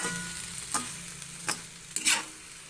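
Eggplant and sardines fry in a pan while being stirred, giving a steady close sizzle broken by a few sharp scraping strokes of the spoon against the pan.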